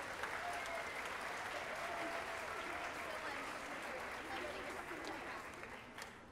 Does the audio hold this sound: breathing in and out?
no